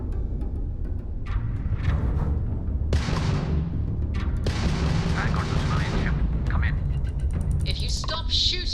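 Spaceship weapons firing in the video game Starfield, dense booming blasts and rapid crackling shots over a heavy low rumble, loud and continuous, with bursts of hissing energy toward the end.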